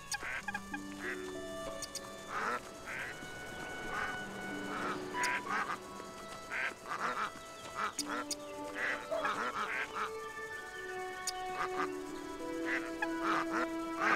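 Ducks quacking in the farming video game Everdream Valley, a series of short repeated quacks and clucking calls over game music, moderately loud and close, with no speech over them.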